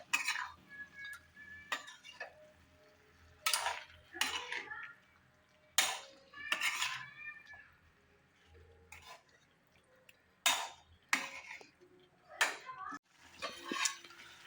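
Spices such as coriander powder being stirred into a dry biryani pot, with a spoon scraping and clinking against the metal in bursts separated by quiet gaps, close and fairly loud, with some clatter near the end.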